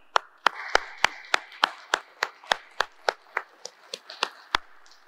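Worshippers at a sanctuary service clap in a steady, even rhythm for about five seconds, sharp distinct claps from a small group rather than a large crowd.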